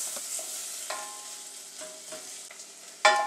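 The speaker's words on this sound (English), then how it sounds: "now that we've let our onions and garlic saute a little bit and just sweat down" Onions and garlic sweat in a pot for corn soup, a soft, low sizzle punctuated by a few clinks and scrapes of a utensil, ending with a brighter metallic knock.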